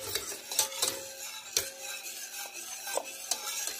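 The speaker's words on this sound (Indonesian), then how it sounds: "jadi kita aduk-aduk terus, jangan lupa tengahnya juga diaduk" A spoon stirs vanilla custard in a pot, making repeated scraping and clinking strokes against the metal at an irregular rhythm, close and moderately quiet, with no talking.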